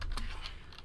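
A computer keyboard being typed on, a few quick soft key taps over a low steady hum, with no speech.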